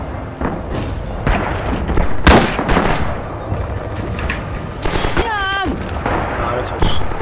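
Gunfire in the World War II shooter Rising Storm Red Orchestra 2 during an online multiplayer match. Sharp shots and heavy booms cut through a constant wash of battlefield noise, with one especially loud crack standing out.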